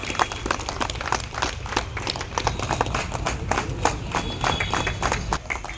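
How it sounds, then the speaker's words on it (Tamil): Clapping from an audience at a public event marking the opening of a control room and surveillance cameras, with dense, continuous applause at a steady loud level. "உங்கள் கரகோஷம் இன்னும் சத்தமாக"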